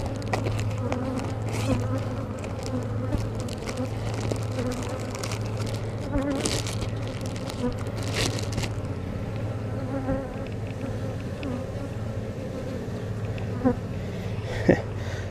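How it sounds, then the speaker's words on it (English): Dense, steady buzzing of many honeybees swarming close by during a hive inspection, continuous throughout with occasional louder passes near the listener. "You can tell by the number of bees that are buzzing me right now"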